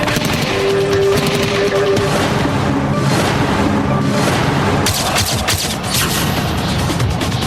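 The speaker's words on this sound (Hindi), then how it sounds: "बस हर मिनट अंदर से गोलियों की आवाज सुनाई दे रही है।" Loud, rapid bursts of gunfire and crashing impacts ring out inside the Taj Hotel in Mumbai during the attack, recorded as news footage, dense and continuous throughout.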